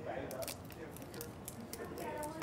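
A dried, roasted nori seaweed sheet crinkles with crisp rustling crackles while a person talks over it.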